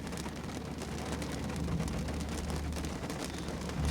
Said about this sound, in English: I have to walk in the rain.